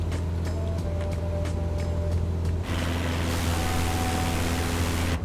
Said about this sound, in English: Very loud from the outside, this engine, louder than the 152